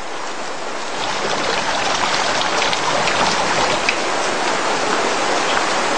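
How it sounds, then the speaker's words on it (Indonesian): Steady rain pours down on an outdoor surface, a dense, continuous hiss of drops that holds loud and even throughout with no voices. "Hujan, sayang! Hujan, nanti kedinginan!"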